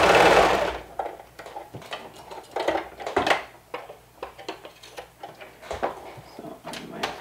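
Serger stitching and trimming through several layers of fabric, its blade cutting off excess seam allowance, with a loud whir at the start followed by repeated short mechanical chattering bursts.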